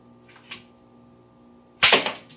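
A slingshot fires once, a sharp snapping release with a quick whoosh, close and fairly loud, preceded by a fainter brief rustle.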